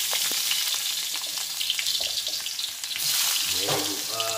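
Onion hits hot olive oil in a pan and sets off a loud, steady sizzle and crackle up close, which swells and stays strong, with a brief voice near the end.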